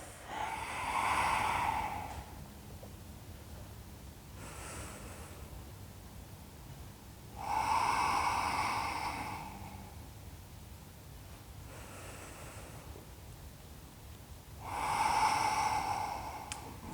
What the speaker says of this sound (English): Finding that rhythm of Ujjayi breath.